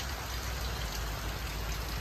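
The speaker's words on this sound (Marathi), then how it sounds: "पाऊस खूप चालू आहे" Rain falls steadily and heavily at a busy waterfall viewpoint near Panshet, a dense, even hiss of drops on surfaces that continues unbroken through the whole moment with no voices.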